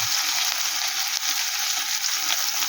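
Shrimp fry in hot oil in a pan, a dense, steady hiss and sizzle that stays loud and close throughout, with no voices.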